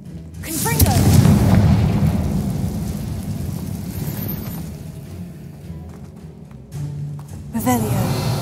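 Confringo explosive spell blast in Hogwarts Legacy, a deep booming rumble that swells early and slowly rolls away, with a second softer impact and swirling magical whooshes toward the end. A voice talks over it.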